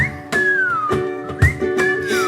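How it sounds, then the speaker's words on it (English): A clear whistled melody with sliding, sustained notes over a soft backing accompaniment, phrases separated by brief pauses. "Come on everybody and whistle this tune right now."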